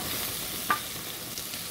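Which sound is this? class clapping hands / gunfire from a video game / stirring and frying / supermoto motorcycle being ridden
stirring and frying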